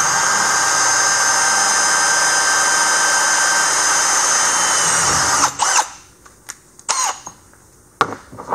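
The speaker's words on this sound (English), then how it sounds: "I'm gonna drill that hole, get that done, and I'll let y'all watch that" A loud, steady power drill whines continuously for about five seconds, then stops, leaving a few short clatters and knocks.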